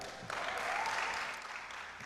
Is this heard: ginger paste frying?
no